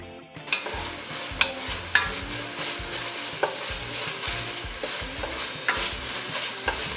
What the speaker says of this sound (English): To the pot now, I'm adding a little avocado oil and the onion.